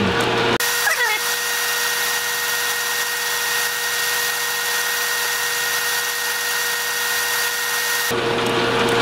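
Power drill boring a hole with a 5/8 inch bit into a steel part for a John Deere machine, a steady loud whine running continuously for about eight seconds, starting and stopping abruptly.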